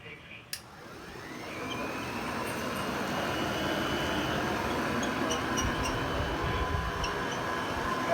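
A click, then an old Hoover upright vacuum cleaner with worn brush-roller bristles whines up and settles into a steady, loud roar with a high whine over it, continuing without pause.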